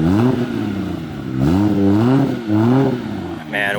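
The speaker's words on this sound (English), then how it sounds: "1JZ though is a beautiful sounding engine. Straight 6, just like a 2J." A Toyota 1JZ straight-six engine revs loudly and up close, its pitch climbing and falling in repeated swells across several throttle blips.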